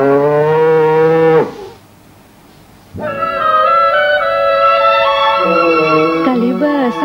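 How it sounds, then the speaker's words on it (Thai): A cow moos loudly and close by: one short low call, a brief pause, then a longer drawn-out moo. "เสียงวัวเนี่ย"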